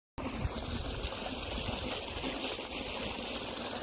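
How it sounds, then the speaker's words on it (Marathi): Irrigation water pumped by a motor pours into a sugarcane field, a steady, soft rushing trickle that runs evenly throughout with no voices. "त्यानंतर मोटर लावून लगेच आपण भिजवायला चालू केलं"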